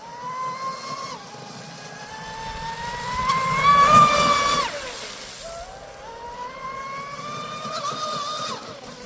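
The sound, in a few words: RC car with TP-4060-SVM motor running under half throttle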